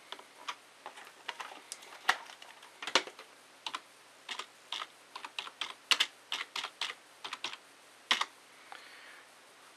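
Typing a search into Amazon on a computer keyboard, with quick, uneven bursts of light, close key clicks running for several seconds and no talk.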